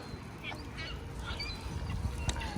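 Several geese honk in scattered bursts at a moderate distance, over a soft outdoor background.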